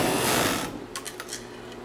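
Juki MO-3616 industrial serger stitching a 5-thread overlock, a loud fast mechanical buzz for under a second that winds down, followed by a few soft clicks.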